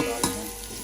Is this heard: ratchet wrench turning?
no